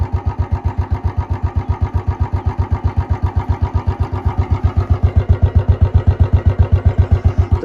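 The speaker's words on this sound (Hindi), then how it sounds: "इतनी कुछ आवाज़ है इसके इंजन में" A Royal Enfield Bullet 350 motorcycle engine idles close by with a fast, steady thumping putter, loud and rhythmic, continuing evenly throughout.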